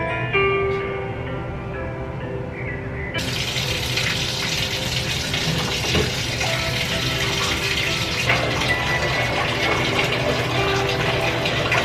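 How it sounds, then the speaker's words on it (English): Water gushes steadily from a bathtub tap as the tub fills for a bubble bath, a loud continuous close rush that kicks in after a few seconds of quieter background and keeps running throughout. "let me begin to run my water"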